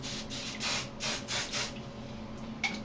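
Several short hissing bursts of an aerosol spray in an even rhythm, close and fairly quiet, followed by a pause and faint handling noises.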